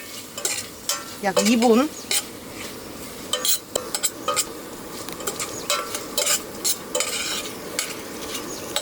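Sauce being stir-fried in a pan with a utensil for a seafood jjamppong soft tofu stew meal kit, giving repeated scraping stirs and clinks over a soft sizzle, with a brief voice in between.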